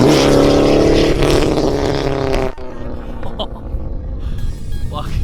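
Nissan S15 Silvia with an SR20VET engine driven hard, loud engine roar with rising revs for about two and a half seconds, then dropping to a lower, quieter rumble with faint shifting tones.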